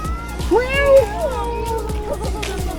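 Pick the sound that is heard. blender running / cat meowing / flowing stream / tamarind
cat meowing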